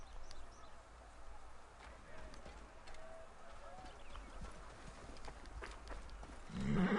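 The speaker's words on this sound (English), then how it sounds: "I have horses for us nearby." Horses in the video game Assassin's Creed Origins, faint clip-clop hoofbeats under ambient game sound with scattered soft calls, louder rumble rising at the end.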